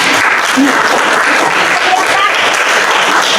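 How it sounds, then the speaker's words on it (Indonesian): A room full of people claps steadily, loud and close, with scattered voices mixed into the applause. "tepuk tangan untuk Mbak Aksa"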